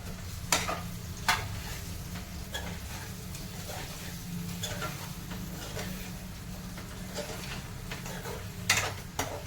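Bitter gourds fry gently in oil over a low flame, a soft, steady sizzle marked by a few sharp clicks and taps from the pan and utensil.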